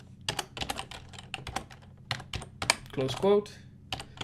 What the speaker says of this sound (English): doing all of the typing